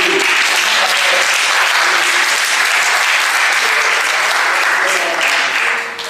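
A congregation applauds and cheers at a celebration at the Lourdes sanctuary, with loud, dense, continuous clapping and crowd noise throughout, tapering off at the end.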